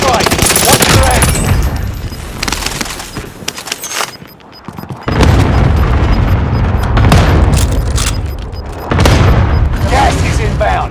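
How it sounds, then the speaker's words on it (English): Cluster strike explosions in Call of Duty: Modern Warfare, a dense run of loud booming blasts and rattling gunfire that dips briefly, then resumes heavily, with a voice calling out over the barrage. "Enemy cluster strike! Watch your head!"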